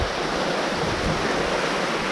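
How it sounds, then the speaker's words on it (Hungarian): The Saarfall waterfall in Graubünden pours into a lake with a constant, close, loud rushing of water, broad and even, with no voices. "Vízesés tóval."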